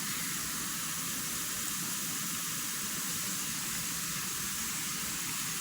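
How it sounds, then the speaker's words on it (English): Continuous hiss and crackle of carrots frying in hot oil, steady and even throughout with no talking. "And that's how the frying is going."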